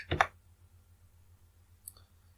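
A computer mouse button gives two short clicks, one at the start and a fainter one about two seconds later, over a low steady hum and no talk.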